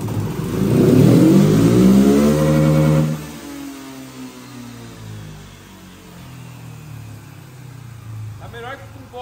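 A flex-fuel motorcycle running on diesel accelerates hard in third gear, its engine note rising loud and close for about three seconds before easing into a steadier, quieter drone.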